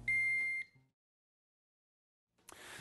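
Warning buzzer of a Megger MIT400 insulation tester: a steady electronic beep lasts about half a second and cuts off, followed by a long silence and then a short burst of noise.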